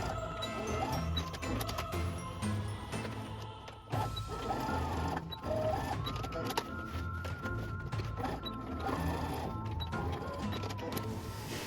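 A machine embroidery unit stitching straps onto a Halloween trick-or-treat bag, giving a busy, rhythmic mechanical chatter and whirring with shifting tones, fairly faint and continuous with no talking.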